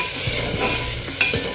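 A spoon stirs light golden-brown onions frying with freshly added ginger-garlic paste for a Hyderabadi mutton and potato shorva, giving a steady sizzle broken by a few scraping strokes against the pan.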